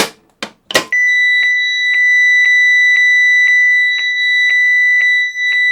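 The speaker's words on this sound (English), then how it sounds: "Now let's do a demonstration of what the fire alarm sounds like" A 1992 CareTaker Plus home automation system sounds its fire alarm: after a few short thumps, a steady, loud electronic tone pulses in a regular beeping rhythm, about two beats per second, near and alone.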